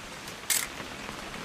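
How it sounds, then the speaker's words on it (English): A single camera shutter click from the video game What Remains of Edith Finch snaps once near the middle, a short bright burst over a quiet rainy background. "Just want to get a shot of you, Dawn, then we can take off."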